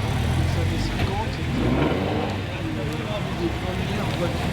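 A 1950s Alfa Romeo Giulietta Berlina drives past during a historic Monte-Carlo rally stage in Bar-sur-Aube, its engine rumble rising and fading steadily under background crowd noise and speech.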